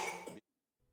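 A child's dry cough, brief and close, a single burst followed by silence and a faint trailing sound, in a malaria vaccine trial setting in Burkina Faso.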